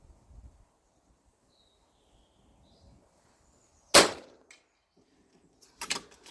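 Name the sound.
FX DRS .22 airgun pellet hitting steel plate at 100m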